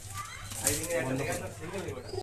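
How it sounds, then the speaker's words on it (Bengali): Pakistani blood pigeons cooing, soft and brief, under a voice. "আমি যে কবুতরগুলো আপনাদের দেখাচ্ছি কিংবা শখ করাচ্ছি বা পায়রা"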